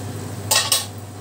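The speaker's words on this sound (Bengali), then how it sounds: "আলুটা এই ঢাকনাটা খুলছি" A metal lid lifts off a pan of potatoes frying over low gas, giving two quick clanks close by over a faint background hum.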